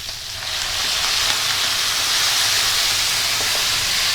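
Red wine poured into a hot pan for baked beans sizzles and boils hard, a loud, steady hiss that rises in the first half second and then holds unbroken.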